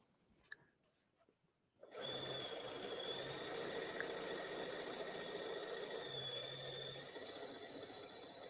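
A sewing machine runs a long, steady stitch along the pressed fold of a shirt hem. It starts after a quiet moment, then whirs continuously and evenly, close and alone.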